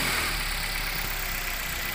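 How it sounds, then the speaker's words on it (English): A Suzuki Swift engine idling steadily after an oil change, a constant close rumble with a faint hum and no talking; the start itself is not heard. "Ang last nito guys is paandarin natin yung engine."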